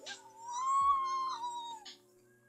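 A cat in Minecraft gives a single drawn-out meow, soft and clear against a quiet game background, with no talking over it.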